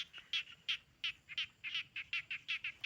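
A rapid series of evenly spaced, chirping croaks repeats steadily, like a chorus of small frogs calling nearby after rain, with no other sounds.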